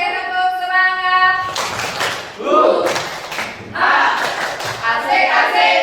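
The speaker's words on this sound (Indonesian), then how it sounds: "Oke, tepuk semangat" A group of students in a classroom doing a rhythmic spirit clap, with dense bursts of hand claps and chanting voices that follow a sung or spoken lead-in.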